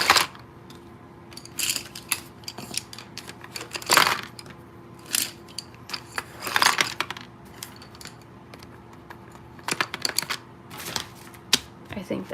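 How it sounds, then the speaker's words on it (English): Colored pencils being gathered and dropped back into a box at a sewing table, a series of scattered wooden clicks, clatters and rattles in short bursts with quiet gaps between them, close by. "I need to put all my colored pencils back in this box because they're rolling everywhere."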